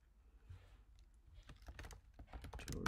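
Quiet keystrokes tap out a commit message on a computer keyboard, sparse at first and then quicker and denser toward the end.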